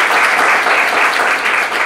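Loud, close audience applause for panelists at an energy careers panel, a dense continuous clatter of many hands with no voices over it.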